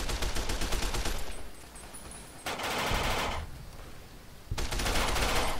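Gunfire in Fallout New Vegas, sustained rattling bursts of shots in three loud stretches separated by quieter gaps.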